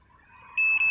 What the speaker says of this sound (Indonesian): tahan sampai ada notifikasi suara